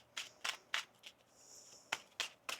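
Tarot cards being shuffled in a series of crisp, brisk riffling bursts, several quick flutters with short pauses between, close and fairly quiet, with no talking.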